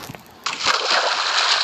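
A splash into water in the Minecraft video game: a sudden broadband burst that settles into a steady rushing, sloshing wash lasting over a second, loud and close, with no talk.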